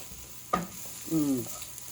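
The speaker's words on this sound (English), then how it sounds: "And now I'm going to drop the hamburger in." Hamburger meat dropped into a frying pan with garlic and onion, giving a sharp thud followed by a brief rising sizzle, close and fairly quiet.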